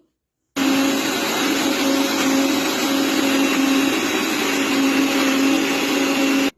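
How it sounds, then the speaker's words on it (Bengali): An electric blender grinds ginger, garlic, onion and cumin seeds with a loud, steady motor whine that starts abruptly, runs for about six seconds and cuts off cleanly. "আদা রসুনের সাথে আমি একটু পেঁয়াজ দিছি আর কাঁচা জিরা দিছি এগুলো একসাথে ব্লেন্ড করে নিচ্ছি"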